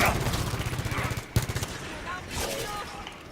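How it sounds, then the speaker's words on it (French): Rapid automatic combat rifle fire in the Halo 5 video game, a sustained burst of evenly spaced shots with a sharp single blast midway, then fainter scattered game sounds. "On va vider les munitions, on va vider d'abord nos munitions."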